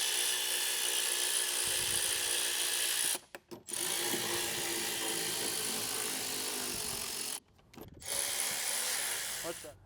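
A power tool drives out four screws from Tesla Cybertruck trim while a rear camera washer is being fitted, making a loud, close, continuous whir that stops briefly twice before starting again.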